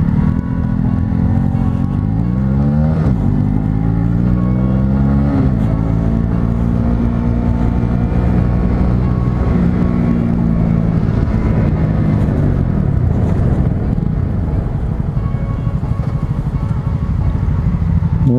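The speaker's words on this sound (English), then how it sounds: "It's having trouble right now idling though." A 2018 Honda CB125R 125cc motorcycle engine idles loudly and steadily, its pitch wavering and dipping now and then as if struggling to hold a smooth idle.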